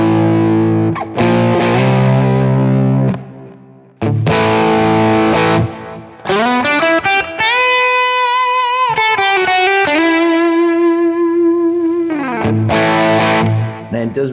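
Electric guitar through a Vemuram Ray overdrive modeled on a Quad Cortex, pushed into a fuzz-like saturated tone: loud chords, then sustained bending lead lines with long singing notes, returning to thick strummed chords.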